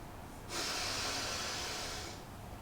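A single long, steady breath drawn in through the nose during meditation, close and hissing, lasting under two seconds before fading.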